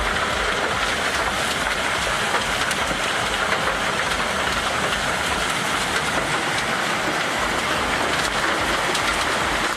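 Hail and heavy rain pelting down in a sudden storm that battered livestock and farmland, a dense, steady broadband roar with continuous crackling impacts throughout and no voices.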